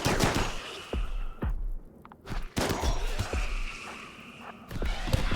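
Gunfire in the game Inquest of the Dead, with repeated sharp shots and thuds arriving in quick irregular bursts, loud and close, with brief gaps between volleys.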